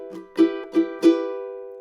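Guitar strumming in a funky percussive pattern with slowed ties: four spaced chord strokes, the last ringing out and fading, played alone at moderate volume.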